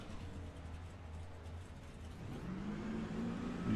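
A racing truck in a video game pulls out of its pit stop, a faint low engine drone swelling into a rising rev near the end.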